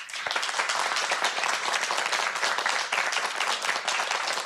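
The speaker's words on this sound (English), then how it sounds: "So round of applause for Raj" Applause for a healthcare union president at a political rally, a steady dense wash of clapping from a crowd throughout, with no talk over it.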